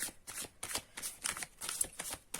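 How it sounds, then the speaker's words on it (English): Rapid, repeated card shuffling close up, a steady rhythm of papery riffles and snaps with no talking. "This is the final shuffle I am giving to the cards."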